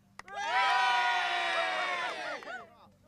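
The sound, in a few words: crowd cheering at motor racing event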